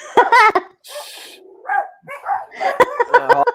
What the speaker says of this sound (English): I'm gonna be distracted now by dogs.